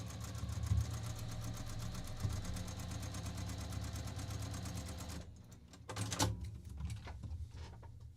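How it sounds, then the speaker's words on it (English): A Juki TL2010Q semi-industrial sewing machine runs steadily at close range with a fast, even whirr, stops briefly after about five seconds, then starts again with a few knocks and handling sounds. "My piecing machine, I have a Juki TL2010Q."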